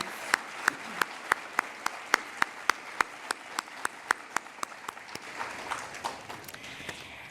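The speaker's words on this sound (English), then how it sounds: "can we give all of these students another round of applause" Sparse, crisp hand claps from a small audience honoring students at an awards ceremony, spaced roughly evenly and fading toward the end over faint room noise.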